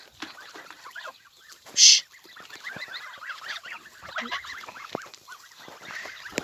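Geese kept by a herder on grassland near a lake give a short, loud honking burst near the middle, over a background of softer clucking fowl calls.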